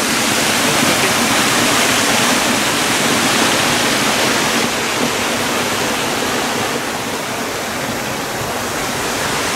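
Cascade du Moulin du Saut waterfall roars in a constant, loud broadband rush of falling water, steady and close throughout with no voices over it.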